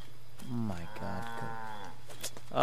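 A cow in Assassin's Creed 3 gives a long, loud, nearby moo lasting most of the moment, with game ambience underneath.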